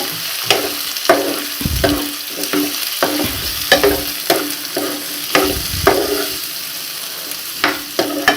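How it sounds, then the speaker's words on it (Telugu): Boiled mushrooms tumble into a pan of frying onions and ginger-garlic paste, giving a steady close sizzle broken by repeated scraping stirs of the spoon, with no talk over it. "ఇప్పుడు మనం బాయిల్ చేసుకుని ఉంచుకున్న మష్రూమ్స్ని వేసేసుకుందాం"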